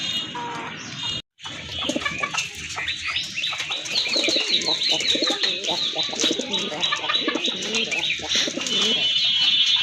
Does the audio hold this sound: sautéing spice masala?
no